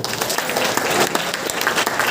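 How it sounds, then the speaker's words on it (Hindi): Brief, dense burst of audience applause at a grand training event, steady and close throughout with no voice over it. "प्लीज एक जोरदार ताली दे दो"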